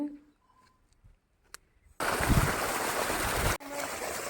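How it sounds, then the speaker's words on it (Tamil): Irrigation water gushing from a pump set outlet into a sesame field, starting abruptly after a quiet rural moment and then rushing steadily, loud and close. "எள்ளு செடிக்கு பம்ப் செட்டில் தண்ணி பாய்ஞ்சுட்டுருக்கு."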